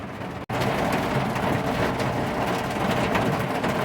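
Heavy rain pours down in a dense, constant roar, broken only by a brief dropout near the start.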